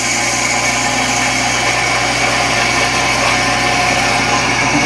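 A rotary phase converter motor keeps spinning after being shut off. It gives a loud, steady, close whirring hum with a constant low tone and no pauses throughout.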